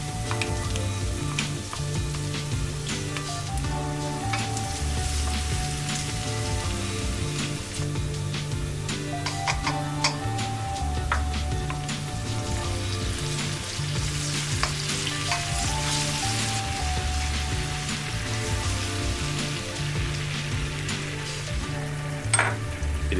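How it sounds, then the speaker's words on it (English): Prawns frying with garlic and chili paste in a hot pan, a steady, loud, continuous sizzle with faint crackles, heard under background music throughout, no talk. "We let it sit for a minute and we add the prawns."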